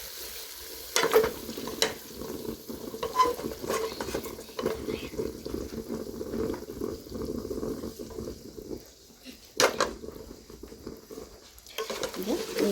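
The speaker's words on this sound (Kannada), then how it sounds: "ಈಗ ನೀಟಾಗಿ ಮಿಕ್ಸ್ ಮಾಡ್ಕೊಳ್ಳೋಣ" Biryani is stirred and mixed in a hot pot, with close scraping and patting strokes over a soft sizzle, rising and falling with each pass of the spoon.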